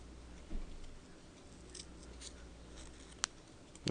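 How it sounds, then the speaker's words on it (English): Fabric scissors snip through fabric being trimmed for a custom cape, quiet soft cuts in a still room with one sharp click of the blades near the end. "With the fabric scissors, of course, because we're cutting only fabric and glue now."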